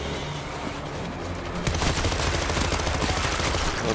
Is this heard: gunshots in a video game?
yes